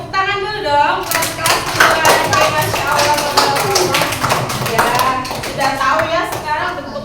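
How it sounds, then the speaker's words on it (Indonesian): A 2nd grade class of children applauds together, a dense run of close, loud claps lasting several seconds with no talk over it. "Tepuk tangan dulu dong buat kelas 2."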